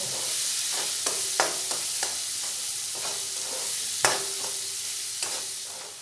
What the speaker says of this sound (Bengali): দিয়ে এই পেঁয়াজ কুচিগুলো 2 মিনিট খুব ভালোভাবে নাড়াচাড়া করে নেব